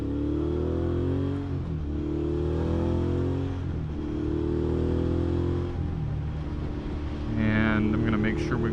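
Exhaust note of a 2019 Suzuki V-Strom 650 motorcycle ridden hard, a steady droning engine tone that rises and falls with revs around a roundabout, with someone talking over it throughout.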